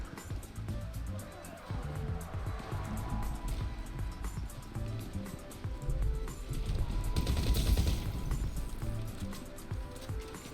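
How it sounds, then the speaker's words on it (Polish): Explosions and bursts of gunfire in GTA Online go off close by in a steady, busy clash, with a louder blast near the end and voices talking over the fighting. "Ja słyszę tylko wybuchy koło siebie"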